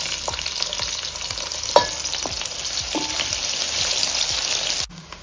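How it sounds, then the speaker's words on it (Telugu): Onions fry in three spoons of oil and a spoon of ghee in a thick-bottomed pot, giving a steady close sizzle with a few light clicks from stirring. "3 స్పూన్స్ ఆయిల్ వేసుకొని, 1 స్పూన్ నెయ్యి వేసుకొని ఉల్లిగడ్డలు వేసి వేపాలి."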